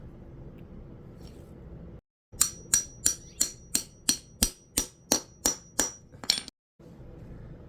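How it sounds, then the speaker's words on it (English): A hammer taps a ring down onto a part on a Grand Design RV, about a dozen sharp metallic strikes in a steady rhythm, close and loud over a low background hum. "We're going to tap it down with a hammer"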